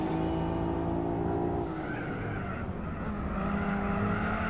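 A loud, high-revving Nissan Skyline race car engine in Gran Turismo 4 roars continuously, with a shift in pitch midway as it changes gear, no talking.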